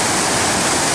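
Rushing river rapids on the Salmon River in Idaho, a steady loud broadband roar of churning water with no break, close by and alone for a second.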